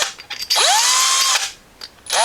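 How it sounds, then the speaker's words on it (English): A power drill with a 5/32 bit bores out the holes in a Jeep J10 window trim piece, with short whirring bursts and one longer rising whine that runs steadily and then stops, all close up. "I'm just going to run it through with a 5/32 drill bit."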